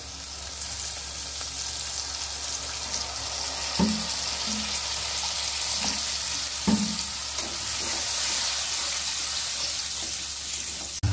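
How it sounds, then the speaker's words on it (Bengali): Turmeric and chilli powder sauté with a splash of water in a pan for a Bengali flat bean and mustard paste dish, hissing in a steady close sizzle with a few sharp knocks of stirring. No one talks. "এটাকে আমি ভালো করে একটু জল দিয়ে কষে নেব"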